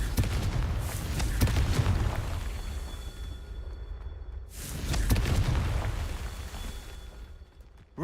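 Two booming blasts from the Confringo spell in Hogwarts Legacy, each a loud broadband burst with a long rumbling decay, the second arriving about four and a half seconds after the first.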